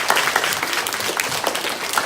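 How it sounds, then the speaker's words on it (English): An audience at a college awards ceremony applauds in a dense, even wash of clapping for about two seconds. "Give her a clap, guys."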